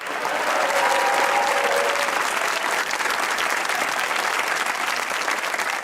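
A studio audience at a comedy talk show claps loudly and steadily for several seconds, a dense, even wash of applause with a faint murmur of crowd underneath.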